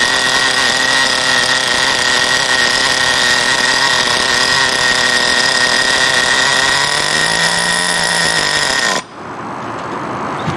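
A nitro-powered R/C racing car engine idles with a loud, steady high-pitched buzzing drone that holds for several seconds, then cuts off abruptly, leaving quieter background noise.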